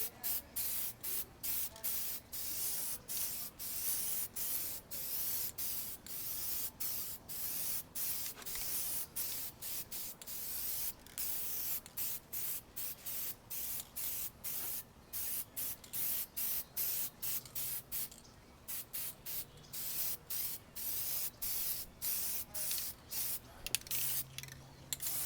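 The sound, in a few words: spray can spraying a light guide coat on leather seats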